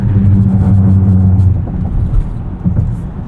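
Steady low engine rumble and road noise inside a 2026 Land Rover Discovery Gemini Edition cruising on a highway, loud and continuous, easing slightly partway through.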